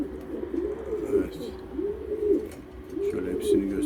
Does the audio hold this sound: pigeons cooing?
yes